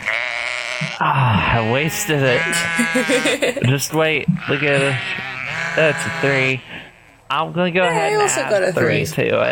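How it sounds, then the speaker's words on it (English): Sheep in a paddock bleat repeatedly with wavering, distressed-sounding cries, loud and close, while people talk over and between the calls. "It's the sound of the sheep. They're bleating."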